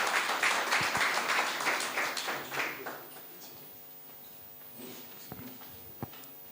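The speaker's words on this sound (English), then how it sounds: "Can we all give him a round of applause?" Audience applause welcomes a government minister at a ministry community programme event, moderate clapping for about three seconds that dies away, leaving a quiet room with a few faint knocks.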